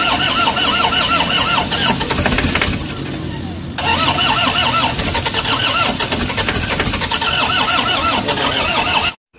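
Toyota Hiace van engine cranking repeatedly without catching, a loud rhythmic starter whir with pulsing beats, a brief pause midway, then more cranking before cutting off abruptly.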